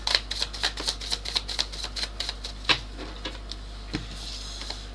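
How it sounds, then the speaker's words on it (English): Rapid riffling of tarot cards, a series of quick crisp flutters in bursts, close by, then a few scattered taps. "I want another shuffle."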